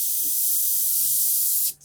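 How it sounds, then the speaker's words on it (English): An airbrush sprays diluted paint as a steady, close, bright hiss that holds evenly for under two seconds before cutting off abruptly. "Testament to the quality of the airbrush, but it's certainly not spraying as per factory settings"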